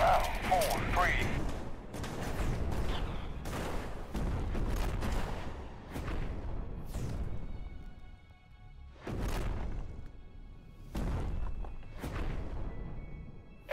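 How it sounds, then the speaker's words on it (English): Artillery barrage in the video game Radio General: heavy booms and rolling blasts fire in dense, uneven clusters with short pauses, loud and continuous, with muffled voices underneath at times. "Firing barrage at Hotel 4-3."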